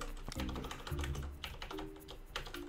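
Computer keyboard typing, a quick run of close, crisp key taps over a few seconds with a soft background hum.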